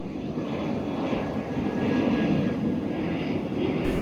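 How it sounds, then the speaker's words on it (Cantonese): Airplanes taking off and landing at Naha Airport in Okinawa, heard from a seaside spot as a continuous broad engine roar that swells gently and holds steady, with no speech. "仲可以睇到喇叭機場啲飛機起飛同埋降落啦"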